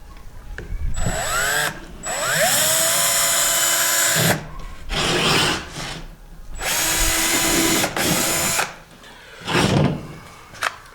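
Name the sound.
power drill drilling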